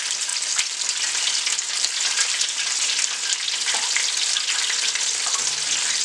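Floured, brined chicken parts frying in a pan of oil, giving a steady, dense, loud sizzle that continues without a break, with a faint clink near the start.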